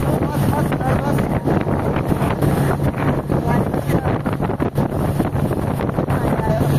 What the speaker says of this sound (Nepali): हावाको यस्तो झट्का छ